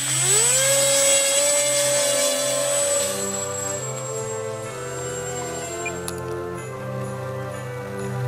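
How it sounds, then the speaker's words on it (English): Homemade RC glider fitted with a bigger electric motor spins up with a rising whine, then keeps a steady buzzing drone close by as it flies. "here's my brother's RC glider that he made. He put a bigger motor on his"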